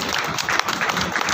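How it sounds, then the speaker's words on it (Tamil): Scattered clapping from a modest audience at a public gathering, an uneven patter of hands with some sharp individual claps standing out, fairly close and unaccompanied by talk. "கைத்தட்டின அந்த 15 பேருக்கு ரொம்ப நன்றி."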